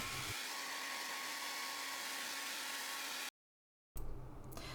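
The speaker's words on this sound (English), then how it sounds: "To speed up this process, I'm using a hair dryer." A hair dryer blows with a steady, loud whooshing hiss for a few seconds while drying a watercolor painting, cuts to silence, then resumes.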